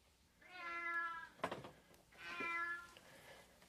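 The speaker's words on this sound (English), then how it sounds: "the cat was no longer just meowing, it was yowling" A cat stuck inside a vent gives two drawn-out, strained meows edging into yowls, loud and near, separated by a short scuffling thump; no voices.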